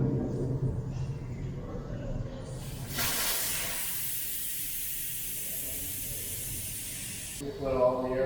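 Air hisses steadily from the opened tube valve of a big electric bike tire on a Sondors e-bike, a loud close rush lasting several seconds after a few quiet handling sounds.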